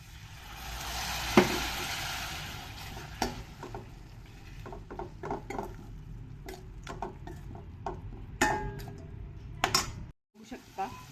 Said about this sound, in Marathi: छानपैकी भाजून घ्यायचा हा मसाला आपल्याला आणि थोडस पाणी पण ऍड करायचं